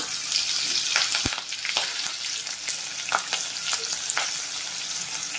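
Asafoetida, curry leaves, green chillies and onion sizzle steadily in a hot pan for a Malvani-style breadfruit curry, with a few sharp clicks from stirring; close and continuous, no talking.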